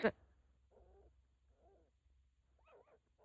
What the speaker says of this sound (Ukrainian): Вони там гавкають, я чую їх.